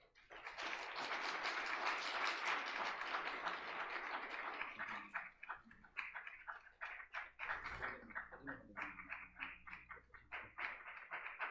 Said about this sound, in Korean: 함께 큰 박수로 축복과 또한 격려 위로의 박수를